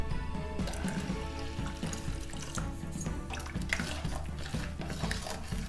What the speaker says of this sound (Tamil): நான் இப்போ இதில் 1/2 டம்ளர் தண்ணி சேர்த்துக்கிறேன்